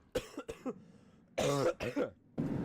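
A series of harsh, throaty coughs, short bursts with brief gaps, close to the microphone.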